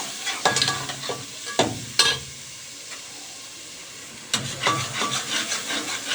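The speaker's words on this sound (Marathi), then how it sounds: "मग हलवून घ्यायचं थोडंसं।" Soaked dal stirred in a hot pan, with several sharp spoon scrapes and clatters over a soft sizzle, close up with quiet gaps between the strokes.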